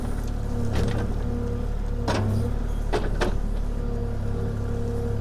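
Kubota KX040-4 excavator digging into a hillside, its diesel engine running steadily with a continuous low rumble and a few sharp hydraulic or mechanical bursts rising over it, close and loud, without talk.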